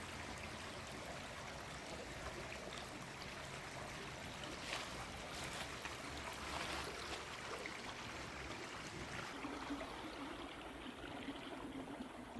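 Babbling stream running beside a riverside campsite, a steady soft trickle and rush of water continuing throughout at low level, with no voices.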